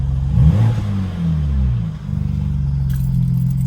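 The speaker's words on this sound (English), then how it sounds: "I'll give it a little bit of a rev. Valves open. You can hear the pops." A BMW M4 engine with exhaust valves open revs up and settles into a rumbling idle, with exhaust pops crackling near the end; close and loud, no talking.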